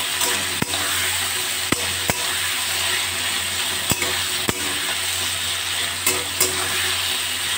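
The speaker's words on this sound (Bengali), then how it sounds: "এক মিনিট এইভাবে নাড়াচাড়া করব" Spoon scraping and stirring salt and turmeric in a hot pan over a raised gas flame, a steady sizzle broken by sharp clinks of utensil on metal at irregular intervals, close and fairly loud with no talk.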